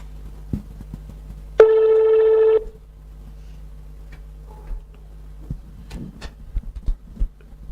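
A telephone gives one loud, clean ring tone lasting about a second, followed by scattered quiet clicks and taps of dialing and handling, with no one speaking.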